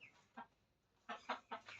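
Hens cluck inside a coop, one now laying an egg, in short separate bursts: a single cluck, a pause, then three quick clucks close together, fairly near and with no talk.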